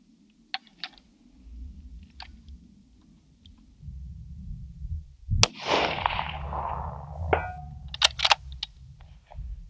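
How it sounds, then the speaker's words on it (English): A 7 SAUM rifle fires from a tripod in the kneeling position outdoors, a single sharp, loud crack with a ringing echo midway, amid scattered clicks and handling noises over a low hum. "So we're going to shoot from the kneeling position and see how it does too."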